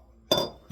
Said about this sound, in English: drop it in the large bowl